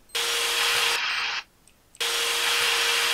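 A drill in a video game whines loudly as a steady broadband motor noise, cutting out briefly before restarting at full volume.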